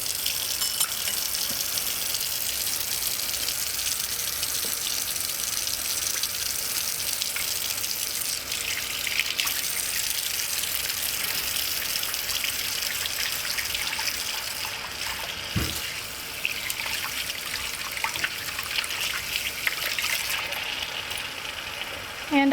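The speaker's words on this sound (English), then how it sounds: "I'm going to go over to my kitchen sink and I'm going to show you how I will wash all of these." Hot water runs steadily from a kitchen tap into the sink, a constant broadband gush for the whole stretch, used for washing yarn with dish soap; no one speaks over it.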